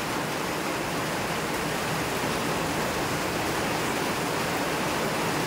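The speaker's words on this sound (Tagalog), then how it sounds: "Ang lakas ng ulan." Heavy rain pours down outside a house in the Philippines where the front yard is flooding, a dense, unbroken roar of steady hiss with no letup.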